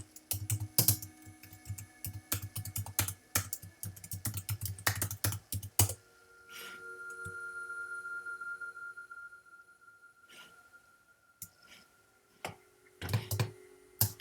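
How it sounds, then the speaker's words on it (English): Rapid keystrokes on a computer keyboard as a command is typed into a Minecraft command block, a dense burst of clicking for about six seconds, then a quieter stretch with a low hum before a few more scattered taps near the end. "I'm gonna type in a comment to see if this works."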